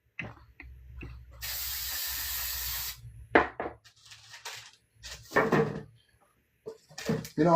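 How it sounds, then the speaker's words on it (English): Cooking pan spray from an aerosol can hisses in one steady burst lasting about a second and a half, followed by clattering kitchen handling noises and knocks. "I get a little pan spray for that also"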